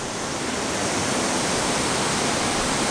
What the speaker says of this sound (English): there was quite a torrent running down there, but now it's just kind of a trickle